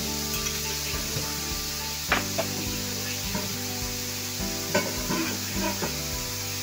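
Shrimp sizzles steadily in a hot pan for Yang Chow fried rice, with occasional sharp clinks and scrapes of stirring cutting through the constant close frying hiss.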